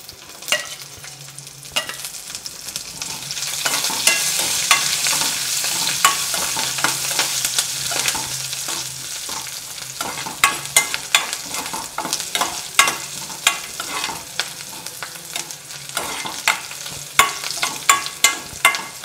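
Garlic frying in oil for a rose apple pickle, a steady close sizzle with frequent sharp scrapes and clinks as it is stirred in the pan, no voices.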